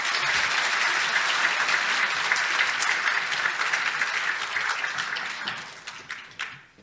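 Congregation at a Korean church service applauds the pastor, a dense sustained round of clapping that fills the room and then tapers off toward the end.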